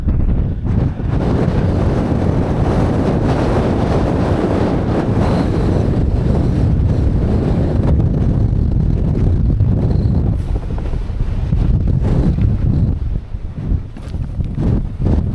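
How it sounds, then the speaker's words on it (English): Strong winter wind near Blea Rigg and Codale Tarn in England's Lake District buffets the microphone in a constant loud roar, gusting and easing slightly over the whole stretch, with no voices. "Get down out of that wind."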